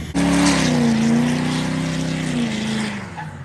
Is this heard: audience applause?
no